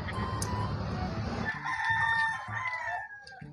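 A rooster crows loudly and close by, a single drawn-out call with a strong rising and falling tone over a noisy farmyard background.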